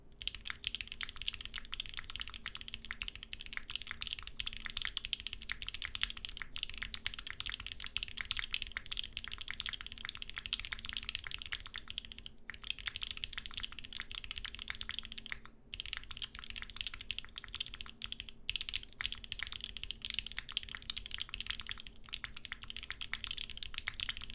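Continuous mechanical keyboard typing with H1 switches, rapid clicky keystrokes in a steady stream, close and fairly quiet, with brief pauses now and then.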